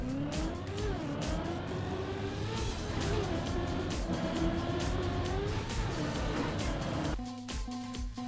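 A car engine in the racing game Trackmania holds a continuous, loud revving drone that rises and falls with gear and speed changes, then drops to a lower idle-like tone near the end.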